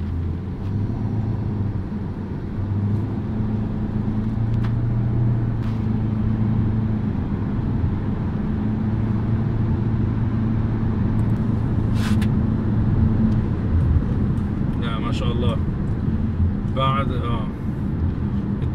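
A Haima S5 SUV accelerates at high speed, its engine and road noise forming a steady drone beneath continuous talk from inside the cabin.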